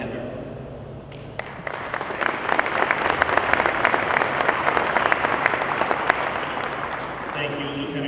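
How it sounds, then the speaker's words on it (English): Audience applause at a military change-of-command ceremony for an aircraft maintenance squadron honorary commander, a steady sustained clapping from a large crowd that builds after a brief pause and continues evenly. "Please join me in a round of applause"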